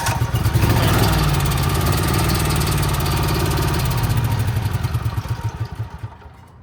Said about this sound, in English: on cold starts, pull that choke out, let her fire up, push it back in once it's in, let her idle